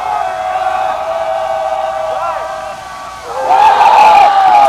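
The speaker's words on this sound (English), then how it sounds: "And now the bench is bringing some crowd noise." Men's college lacrosse game between Florida and Florida State, with the bench raising crowd noise: a steady mix of shouting voices and cheering that swells louder near the end, heard up close and continuous.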